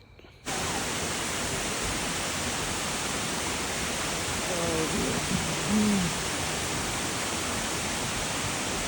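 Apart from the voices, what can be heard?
waterfall, seen from near its top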